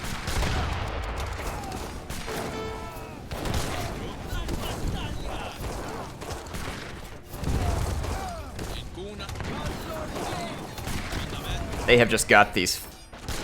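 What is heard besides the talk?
fire cannons shooting at infantry in video game Age of Empires III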